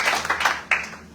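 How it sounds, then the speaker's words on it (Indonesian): Church congregation clapping in praise during a worship service, a few quick distinct claps in a short burst, moderately loud and close. "Yang mau bersukacita berikan tepuk tangan untuk Tuhan."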